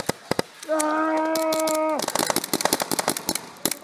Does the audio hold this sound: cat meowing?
no